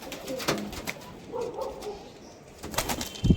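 A Teddy pigeon, a male, let loose nearby, giving low cooing calls with bursts of wing flapping, intermittent and fairly close, with no speech.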